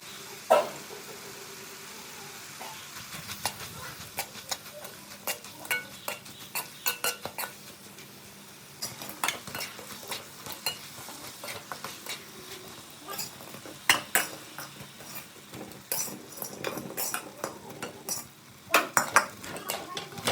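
A metal utensil clinks and scrapes against a pan in irregular bursts as vegetables are sautéed in oil with salt, with a low background hum.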